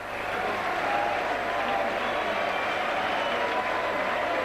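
Applause from rugby league players of Workington Town toward their supporters at Headingley, a steady wash of clapping blended with dense crowd noise throughout.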